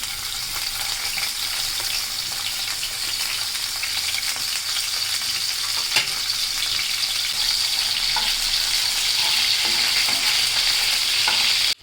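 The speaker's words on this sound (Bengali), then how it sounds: "শুটকিগুলো ভাজা হয়ে গেছে, এখন আমি রসুন পেঁয়াজ দিয়ে দিচ্ছি।" Dried fish fries in oil in a cooking pot, a steady, close sizzle running the whole time with occasional scraping stirs and a sharp clack near the middle.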